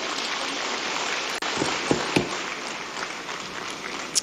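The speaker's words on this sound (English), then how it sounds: "Thank you for applauding him." Broadband crowd applause at a Nigerian digital technology conference, steady and fairly loud throughout, with a few sharper claps standing out and a brief dip partway through.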